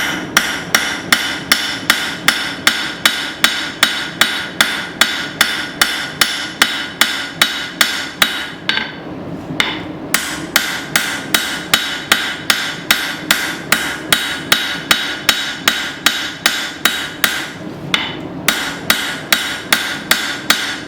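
Steady rhythmic hammer blows on hot steel while forging a blade from an old file, sharp ringing strikes about two per second over twenty seconds, with two brief pauses, loud and close.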